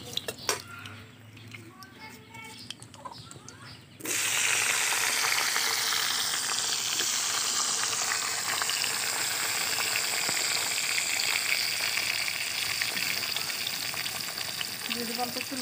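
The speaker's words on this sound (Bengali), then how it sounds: "এখন বেগুনগুলো ভেজে নেব।" Eggplant pieces frying in hot oil in a home kitchen, a loud, steady sizzle that bursts in suddenly after a quieter start and continues unbroken with faint crackles.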